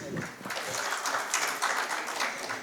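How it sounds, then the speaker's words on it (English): Round of applause for a panel on curriculum and employment at a conference session in Jammu: steady mixed clapping from the audience throughout, moderately loud and fairly near. "Can we have a big round of applause,"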